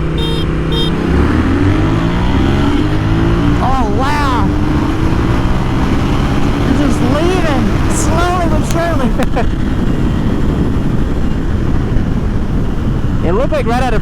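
Ducati and Triumph Scrambler motorcycles pull away together from a rolling start in first gear, their engines rising and falling in pitch through repeated revving surges while voices talk over the riding noise.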